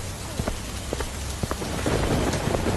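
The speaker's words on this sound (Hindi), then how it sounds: "बारिश पहले के मुकाबले बहुत तेज हो चुकी थी।" Heavy rain pours steadily in a thunderstorm, a dense close hiss with scattered drops and a low rumble of thunder underneath, no voices.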